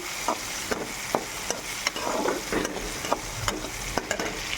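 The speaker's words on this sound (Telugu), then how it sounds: "ఇలా బాగా వేయించుకోవాలి." Brinjal and tomato curry frying in a pan, with a spoon scraping and stirring in regular strokes about every half second over a soft, continuous sizzle, close by and with no voices.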